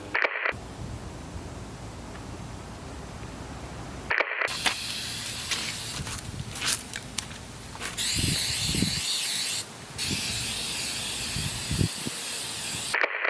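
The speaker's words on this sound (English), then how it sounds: "We flip this upside down and flex seal that along with the flex glue" Flex Seal hisses from a spray can onto a kayak in long, steady bursts with brief pauses between them. The spray is close and loud, with some handling clatter in between and no clear speech.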